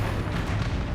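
Confringo blasting spell explosion in Hogwarts Legacy, a loud, dense burst of booming noise that fills the whole moment without pause.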